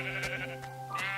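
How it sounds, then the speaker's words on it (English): A sheep in the Minecraft video game bleats, with three short, close synthetic bleats over quiet music. "While the sheep is here, we're going to attack him."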